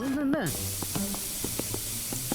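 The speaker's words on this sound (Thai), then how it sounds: "เดี๋ยวเราต้อง ฉีดสเปรย์สักหน่อย" Aerosol spray can being sprayed in the video game Internet Cafe Simulator 2, a sustained broad hiss running through most of the clip, with a short tonal game sound at the start and faint clicks beneath.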